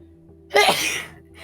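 One loud, sharp sneeze from a player during an online tabletop game session, close to the microphone, bursting out after a brief quiet pause and trailing off.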